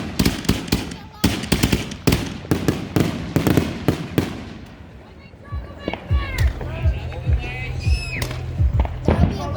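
Fourth of July fireworks and firecrackers go off in rapid, loud crackling volleys, with sharp pops and a brief lull before more bursts, and voices can be heard faintly among them.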